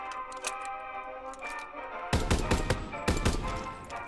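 A BAR automatic rifle in the video game Call of Duty WWII fires in two close bursts of rapid loud shots, after a quieter stretch of mechanical clicks and handling noises.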